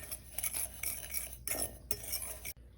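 A spoon stirring dried basil, garlic powder and smoked paprika together in a bowl, giving soft scraping swirls with a few light clinks, close and quiet with no talk, ending abruptly.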